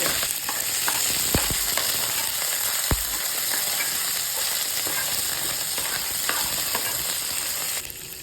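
Continuous loud sizzling of green chillies and curry leaves frying in hot oil, with a few sharp pops and crackles; no talking.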